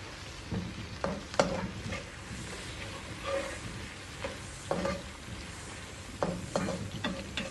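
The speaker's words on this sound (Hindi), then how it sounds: "और मैं इसमें 3 अदद कटे हुए प्याज शामिल कर रहा हूँ और मैं इन्हें लाइट ब्राउन कर लूँगा।" Three chopped onions fry in oil for a Pakistani-style chicken yakhni pulao, a steady sizzle broken by repeated scraping stirs of a spoon against the pan, with no one talking.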